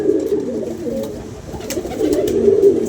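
Pigeons coo steadily outdoors in a low, throaty, rolling murmur that keeps going the whole time, swelling and easing slightly, close and fairly loud.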